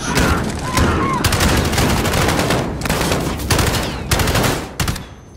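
Call of Duty Modern Warfare gunfire, loud close automatic bursts in several long volleys separated by short gaps, chaotic and dense, with a faint voice in the background.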